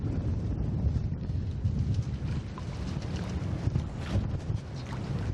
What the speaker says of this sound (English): We are protected from the wind as it is picking up, as you can probably hear it.